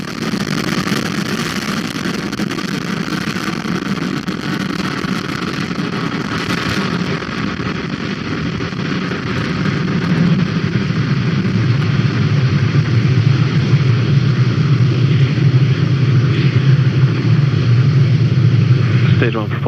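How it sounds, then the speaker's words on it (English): A Falcon 9 rocket lifts off from Pad 40 at Cape Canaveral Space Force Station in a sustained, distant roaring rumble that swells louder and deeper partway through, beneath steady broadcast commentary. "Falcon 9 has successfully lifted off from Pad 40 at Cape Canaveral Space Force Station"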